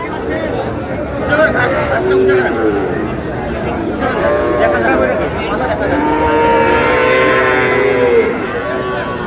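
Cattle low repeatedly at a busy cattle market in Sylhet, with several long moos rising over a dense hubbub of crowd chatter and nearby voices.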